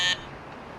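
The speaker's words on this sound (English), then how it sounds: "He approaches the door and pushes the buzzer." A door buzzer on a run-down two-story building gives one short, harsh electric buzz, then cuts off and leaves a quiet room tone.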